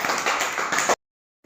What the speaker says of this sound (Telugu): క్లాప్స్ కొట్టండి శశిధర్కి.